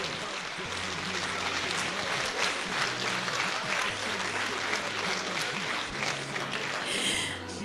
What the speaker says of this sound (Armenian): ջերմ ծափահարություններով